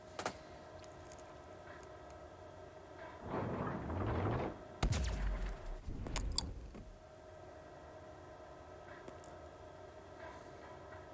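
Naval guns fire in World of Warships Legends, from a ship styled as the USS Voyager, as two loud booming bursts in quick succession over a quiet mechanical background hum.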